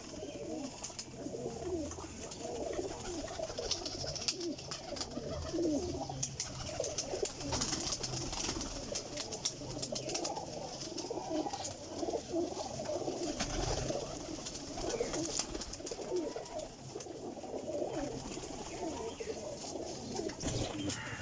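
Pigeons kept in a loft coo softly and repeatedly in a low, continuous chorus, with faint rustling and occasional distant voices in the background.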